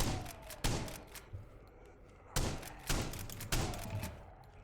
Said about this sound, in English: Why were the guards shooting?